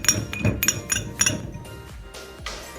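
A drinking glass clinks several times in quick succession, bright close taps ringing briefly, followed by softer clatter and a quieter stretch.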